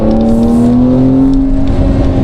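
A Porsche engine hums loud and close from inside the car while the driver shifts gears with the steering-wheel paddles in sport mode, a steady tone that rises slightly in pitch and then falls, with no talk.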